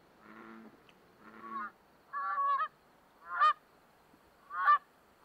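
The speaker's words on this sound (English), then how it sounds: "Canada geese flock to the pond in early spring" Five separate Canada goose honks at a spring pond, the first two lower and hoarse, the later ones sharper and louder, spaced about a second apart against quiet.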